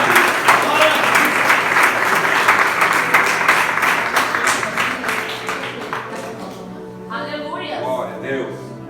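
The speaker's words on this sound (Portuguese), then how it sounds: "Então aplauda o Senhor nessa noite em nome de Jesus." A church congregation applauds during an evening worship service, dense, steady clapping filling the room for several seconds before fading, with a voice speaking over the tail end.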